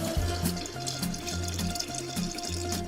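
Cold water pours steadily into a large batch of drink, giving a continuous splashing, gurgling stream with a faint hum underneath and no talking.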